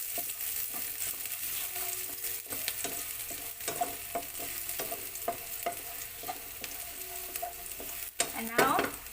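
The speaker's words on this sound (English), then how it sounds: "Just have to saute just a few seconds." Garlic sautéing in a pan ahead of crab and shrimp, with a steady close-up sizzle broken by repeated spatula scrapes and taps, and a louder clatter at the end.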